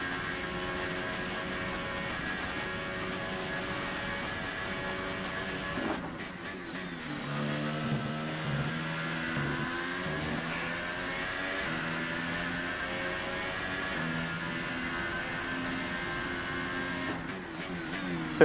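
A car engine revs in a racing video game, rising and falling through gear changes with a continuous whining, buzzing drone and no talk.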